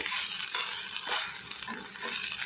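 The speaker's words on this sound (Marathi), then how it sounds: "आता आपण कांदा आणि खोबरं असं मस्तपैकी गोल्डन होईस्तोवर छानपैकी भाजून घेऊया." Onion and coconut roast in a pan with a steady, close sizzle and soft stirring scrapes running throughout.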